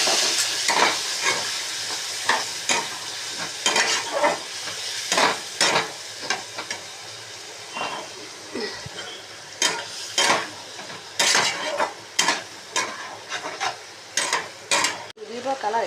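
Ground spices (cumin, coriander, chili, turmeric, Kashmiri chili) sizzle loudly in a pan as water is poured in, with repeated scraping stirs in an uneven rhythm and a hissing bubble throughout, close and without talk.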